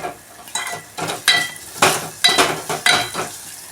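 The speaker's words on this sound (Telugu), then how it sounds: "అల్లం వేగాలి అల్లం వేగింది" Ginger fries in a pan for a mud dal rasam, with a spatula scraping and clinking against the metal at a steady pace over a faint sizzle.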